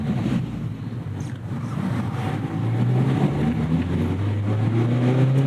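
A manual car engine revs during a heel-toe downshift, a low droning hum that rises in pitch in the later seconds over heavy wind noise.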